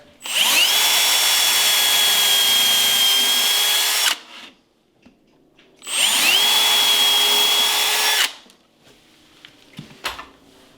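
A power drill boring a 1/8 inch hole for cabinet hardware, with a block held behind the workpiece, whines loudly in two steady bursts of about four and two seconds. A pause separates them, and small clicks follow the second burst.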